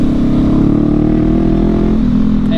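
Loud, steady engine drone of passing motorcycle and car traffic on an Oregon road, with a motor pitch shifting slightly near the end, close and constant throughout.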